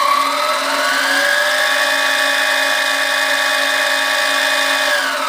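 A 7x10 mini lathe motor runs in reverse while its chuck fails to turn, producing a loud, steady electric whine with layered tones that dip slightly in pitch at first and then hold constant.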